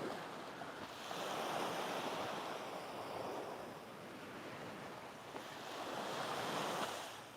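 Ocean waves wash onto a beach at Pran Buri, Thailand, in a steady roar that swells and eases across two broad surges, with wind noise on the microphone and no voices.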